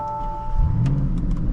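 A 2022 Porsche Cayenne GTS Coupe starts up inside the cabin: a brief electronic chime, then the engine catches with a short rising rumble and settles into a low, steady idle.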